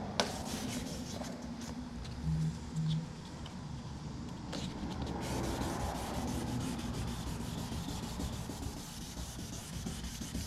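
A car headlight on a G35 Coupe is wet sanded with 1000 grit sandpaper, making a continuous close rubbing scrub with rhythmic strokes and a few brief louder bumps.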